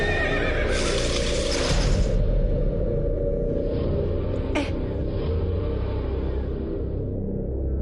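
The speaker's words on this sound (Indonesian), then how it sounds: "Tadi ada kuda lewat cepet banget." A horse whinnies loudly in an Indonesian film scene, a rising neigh early on followed by rumbling hoofbeats and a swish, all over a steady low background.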